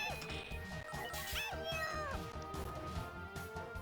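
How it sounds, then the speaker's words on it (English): Video game death cry of a cat girl from Purikura Daisakusen on the Sega Saturn: a few short, high meowing wails over busy game music and effects. "Sounds like a little cat girl when she dies."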